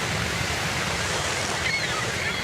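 Ocean waves wash in a steady, dense rush of surf noise, close and fairly loud, with a faint brief tonal chirp partway through and no talk.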